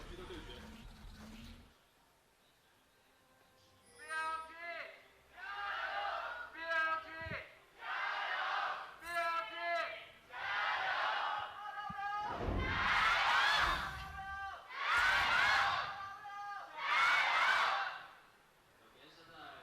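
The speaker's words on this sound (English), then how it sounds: "Fans still cheering and representing as best they can." Esports fans cheering at a League of Legends LPL playoff Game 5 in Hangzhou, loud rhythmic crowd chants rising and falling in waves, with talk heard at first.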